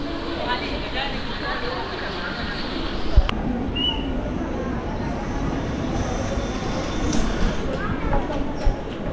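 A passenger train pulling into Vasai station gives off a steady, loud rolling rumble with a brief sharp clank and a short high squeal, while people talk nearby.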